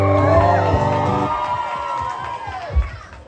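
Cheers, whoops and shouts rise from a concert crowd at a show at Dave & Buster's in Honolulu. The loud burst fades over a few seconds, and a single shout pops out near the end.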